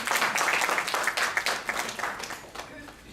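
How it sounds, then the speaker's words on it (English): Audience applause at a corporate handwashing awareness event, a steady dense wash of clapping that holds loud for about three seconds before tapering slightly. "Let's give her a big round of applause."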